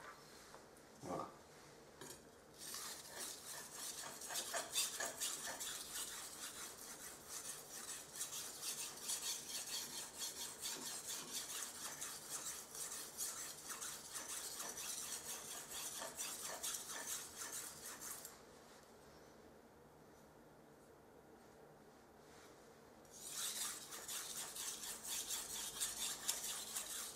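A steel knife blade of very hard high-carbon steel rasps steadily across a whetstone in continuous strokes, close and fairly loud, pausing briefly near the end before the sharpening resumes.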